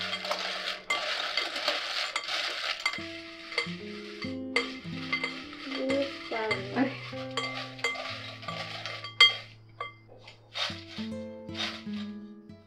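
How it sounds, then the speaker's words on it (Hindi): Air-fried semolina pasta is tossed with spices in a bowl, making light rattling, scraping and clinking at a soft level in uneven bursts, close and without talking. "अब पास्ता डाल के अच्छे से मसाला मिक्स कर लें।"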